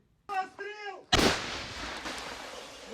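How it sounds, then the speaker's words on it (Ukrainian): A single loud boom from a 122 mm artillery gun strikes after a brief spoken phrase, its heavy blast rolling and echoing away into lingering rumble. "ось полетів 122-мм снаряд на голови окупантів"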